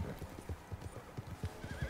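A horse gallops in the video game Red Dead Online, its hoofbeats clopping in a quick, steady rhythm, fairly faint and alone.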